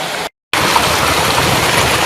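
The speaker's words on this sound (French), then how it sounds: "Là, le ruisseau ici qui découle" A small stream flows past trees falling into it near lakeside homes, a steady close rushing wash after a brief dropout at the start.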